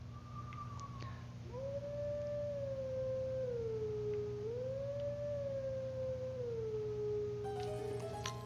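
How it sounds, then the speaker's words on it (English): In Zelda: Twilight Princess HD, a wolf howls along to a howling stone's notes in the Eldin area: a brief high tone, then a long wavering melodic howl over a constant low hum, without speech. "So why don't we try howling along?"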